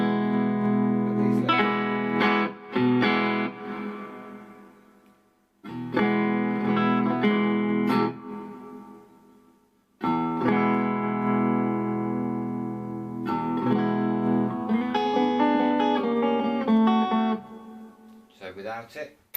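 Electric guitar played through a cheap amplifier with a reverb pedal, ringing chords and picked notes in bursts separated by brief pauses, loud and close with sustained reverberant tails.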